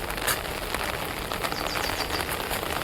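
Heavy rain pours down around a village temple in a flooding street, a dense, constant patter and splash close by, loud and unbroken, with no one talking.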